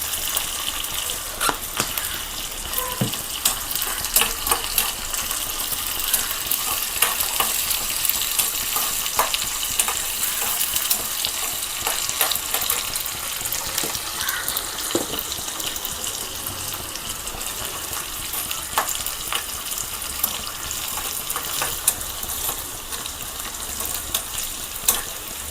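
Oil frying in a pan while dried fish curry is cooked, a steady close hiss and sizzle with scattered crackles and stirring clinks throughout, no talking.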